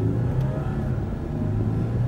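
A 2015 Porsche Cayenne Turbo Diesel pulls hard through first and second gear, its engine a deep, steady rumbling drone heard from inside the cabin, loud and continuous with no talking.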